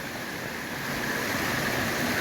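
Mountain waterfall on Cascade Brook in New Hampshire, a steady broadband rush of falling water that holds even and close throughout, with no voices over it.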